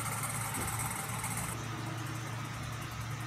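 A motorcycle engine idles steadily at close range, a faint, even mid-pitched hum with no speech over it.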